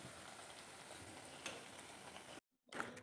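Diamond cut snack pieces frying in hot oil, a steady close sizzle and crackle running for a few seconds before a brief silent gap and a short return of bubbling.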